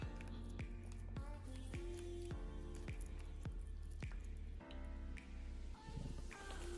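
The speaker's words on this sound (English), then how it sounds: "get it back in the wet mix, get it nice and covered, shake it off, get it back in the flour, one more time in the wet mix" Wet, squishy slaps and drips as a steak is dredged back and forth between flour and a wet egg mix, a series of close, irregular soft thuds and sticky squelches.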